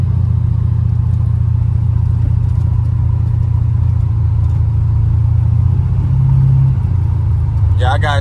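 A 1986 Buick Regal Limited with a big-block engine and Holley EFI rumbles steadily from inside the cabin while cruising, with a low, continuous engine drone and a person talking over it.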